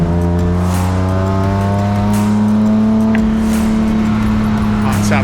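BMW M Performance Parts race cars lapping a racing circuit, a loud sustained engine drone with steady harmonic whine as cars run close by, a race commentator talking over it.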